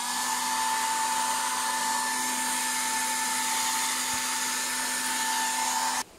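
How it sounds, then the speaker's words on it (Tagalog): A hair blower runs steadily and loudly to heat the parts of a McFarlane Toys Batman action figure for disassembly, a constant whirring hiss with a fixed tone that stops abruptly near the end. "try to hit the parts up using hair blower"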